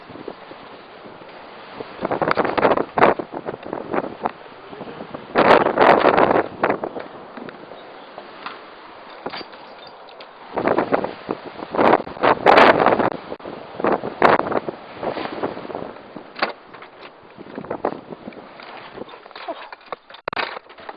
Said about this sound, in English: And it's nice windy weather